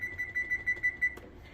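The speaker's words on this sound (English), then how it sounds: "So we'll put the timer on for 12 minutes." A kitchen timer being set to 12 minutes for cookies baking at 350 degrees, giving a steady run of soft, evenly spaced beeps or ticks at close range with no talking.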